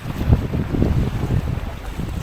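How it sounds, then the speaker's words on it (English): Strong wind at the rainy Lake Huron harbor in Rogers City, Michigan, buffeting the microphone with a steady, low rumbling roar and gusty surges throughout, with no voices. "I said that wind's kind of hitting us right in the face."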